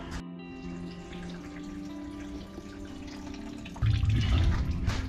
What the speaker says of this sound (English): While the coolant is still dripping out of the radiator